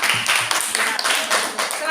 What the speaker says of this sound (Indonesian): Kita berikan tepuk tangan untuk kelompok 4 atas presentasinya.